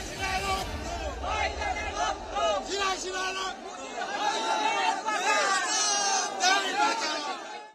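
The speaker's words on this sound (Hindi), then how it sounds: "लिहाजा बंगाल की सड़कों पर उन्मादी भीड़ नजर आ रही है।" A frenzied crowd fills the streets of Bengal with loud, dense chatter and shouting, many voices overlapping continuously with occasional raised cries, close and without pause.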